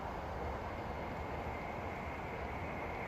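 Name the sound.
train passing in the distance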